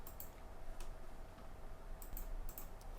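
A few faint, sharp clicks of keys being pressed on a computer keyboard, including the enter key, scattered across a steady low hum with no talking.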